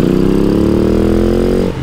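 A TM SMR 450 Fi ES four-stroke motorcycle engine runs loud and close, a dense buzzing drone with a slowly rising pitch that drops off abruptly near the end.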